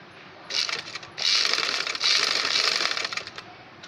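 A sewing machine stitches gum lace onto fabric in short runs of fast mechanical chatter, starting and stopping a few times, close and fairly loud.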